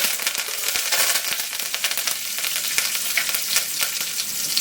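Cinnamon, bay leaf, cloves and curry leaves frying in hot oil for vada curry, crackling loudly and continuously with dense popping and spitting, close and with no voices.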